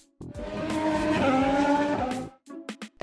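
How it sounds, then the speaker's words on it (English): A race car in a children's cartoon roars past at close range with a long, loud tire squeal, then fades into a few short engine sputters. "Race car."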